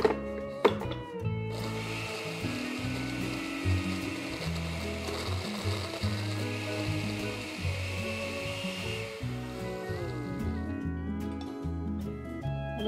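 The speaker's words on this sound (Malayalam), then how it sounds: "മിക്സിയുടെ ഐസ് ക്രഷ് എന്നുള്ള ആ ബട്ടണാണ് ഞാൻ ഉപയോഗിക്കുന്നത്" A mixer grinder on its ice-crush setting whirs loudly in bursts, its motor pitch rising and falling as it crushes ice for a piña colada, with brief clatters between runs.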